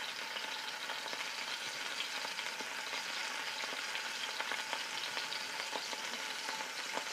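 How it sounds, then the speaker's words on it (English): Scallops searing in a hot pan give a steady, even sizzle with fine crackling spits, close and alone throughout with no talk. "now that we have our scallops searing"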